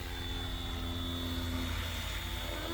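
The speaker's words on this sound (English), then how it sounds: "it is a 3D helicopter" A Flywing FW450 3D RC helicopter in flight, a faint steady whine with a thin high tone, heard at a distance and alone.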